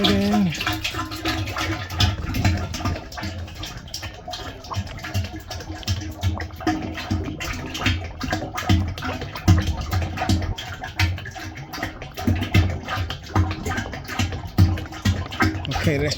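Hydraulic oil poured from a spouted can into the reservoir of a Bobcat E80 mini excavator, a continuous gurgling liquid stream with splashy fluctuations running steadily for about sixteen seconds.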